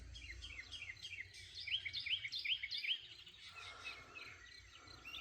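Wild birds sing in Georgia, with a run of quick, bright chirps and trills at moderate distance that builds to a busy middle stretch and then thins out over a low, steady outdoor rumble.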